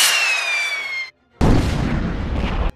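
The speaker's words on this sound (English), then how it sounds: "The force of the explosion sent Mushu and Kriki flying through the air" A rocket blast in an animated fairy-tale battle on a rooftop, with a descending whistle before a short gap, then a loud, roaring explosion that rumbles on for over a second.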